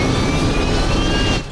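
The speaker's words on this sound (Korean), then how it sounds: "비행기는 결국 이륙에 성공합니다만" Airplane jet engines roaring during takeoff in a disaster film, a loud sustained rumble with a faint high whine, easing slightly at the end.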